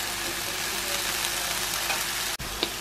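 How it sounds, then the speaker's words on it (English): Food sizzles loudly and steadily in a hot pan, a constant crackling hiss, broken near the end by a brief clunk. "Let's have a little bit of frying ASMR for you."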